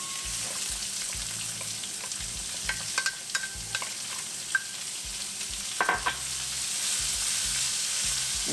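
Onions sauté in a pan with cashews for upma, giving a steady hiss of frying broken by a few sharp spoon taps and scrapes, all close and clear with no one speaking.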